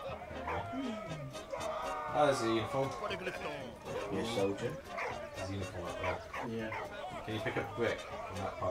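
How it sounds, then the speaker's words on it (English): A dog barks, yips and whimpers in the World War I puzzle game Valiant Hearts, its short cries rising and falling beneath two people talking throughout. "that's a dog. That is a dog."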